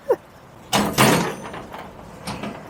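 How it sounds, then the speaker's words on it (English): A shed door bangs in gusty desert wind: a small knock, then two loud slams close together, and a lighter thud after a pause, all with wind rushing around them. "That is my shed door banging around."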